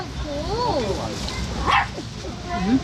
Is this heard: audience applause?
no